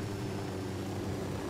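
Airplane flying in the Ghost Recon Wildlands video game: a continuous propeller-engine drone, low and steady, sustained at a constant loudness without voices.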